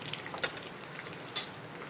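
Fried peanuts and dal stirred back into a hot oil tempering for crispy onion puffed-rice chivda: a soft, steady sizzle with a couple of sharper scraping clinks, faint and close.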